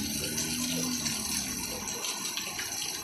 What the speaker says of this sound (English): see all that rain falling?